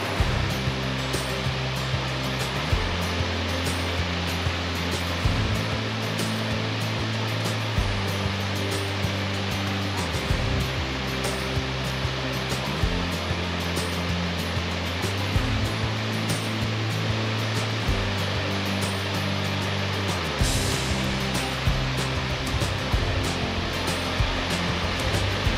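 Creek water rushing through the granite walls of Flume Gorge, a steady broadband roar heard from a boardwalk above, loud and continuous with a low rhythmic pulsing underneath.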